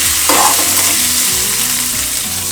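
Capsicum and green chili sizzle loudly in hot oil in a pan, a steady close frying hiss with a few soft clinks of a spoon stirring, no voices.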